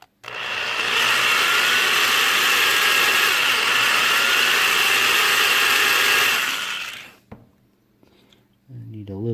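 A power drill bores a deeper hole into a toy model car propped on a block for Gaslands modding, a loud steady whir running about seven seconds before cutting off, followed by faint handling noises.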